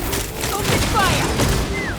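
A volley of gunfire in the Genshin Impact video game, rapid shots crackling together under shouted character voices and a busy game soundtrack.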